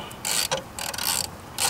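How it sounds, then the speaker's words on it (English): A 10mm socket ratchet loosens a bolt behind the wire harness of a 2015 Nissan Pathfinder during a cooling fan replacement, giving three close, loud bursts of rapid metallic clicking with short pauses between. "using a 10mm socket to remove another bolt right behind"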